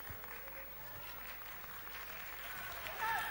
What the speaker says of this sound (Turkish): Alkışlamayın, alkışlamayın.